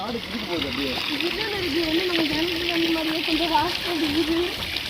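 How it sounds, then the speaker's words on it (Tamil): Irrigation water rushing down from a forested hillside near Alagar Kovil, a steady close wash of flowing and splashing water with a voice talking faintly over it throughout. "இது கா மேலே மலையிலேருந்து வர்ற தண்ணி"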